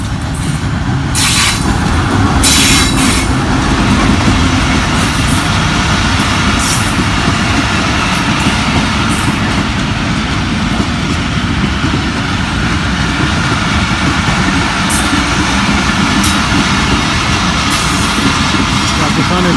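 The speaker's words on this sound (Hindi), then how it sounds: "जी, एक और गाड़ी कराची की साइड से आ रहा है।" A train arriving from the Karachi side at Tando Adam railway station in Pakistan: a loud, continuous rumbling roar with repeated sharp bursts, like horn blasts or brake hiss, heard close by.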